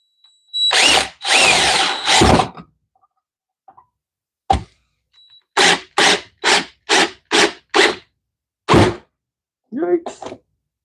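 A power drill drives screws into glued wood with no pilot hole: two longer whirring runs, then a quick series of about seven short, loud bursts, with a brief voice at the end.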